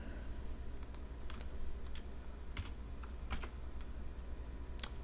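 Computer keyboard keys tapped in short, scattered bursts while a stamp design is drawn on screen, including a held shift key and quick letter shortcuts; clicks are light and close, with no talking.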